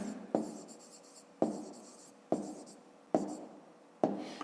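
Pen strokes on paper during a fifth-grade maths exercise, five distinct scratchy writing bursts at a steady pace, each starting with a sharp tap and fading, close and alone with no talking.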